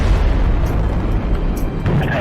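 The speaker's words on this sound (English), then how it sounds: "There's a large explosion going on." Large explosion from a derailed chemical freight train at a rail yard, a heavy continuous roaring rumble with deep booming low end, loud and sustained, with a sharp crackle near the end.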